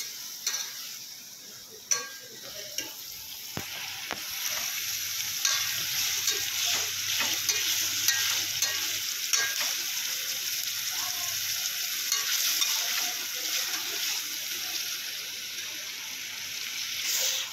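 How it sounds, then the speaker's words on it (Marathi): Chicken fries in oil with coconut paste, producing a loud, sustained, close sizzle with a few early clanks and scrapes of stirring. "त्याच्यात तळायचं काम चालू आहे."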